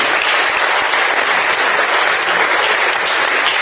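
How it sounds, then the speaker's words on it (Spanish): A crowd at an ancestral cooking event gives loud, sustained applause for a bartender from Lima's Cañete, dense, even clapping filling the whole stretch. "un fuerte aplauso para Alberto."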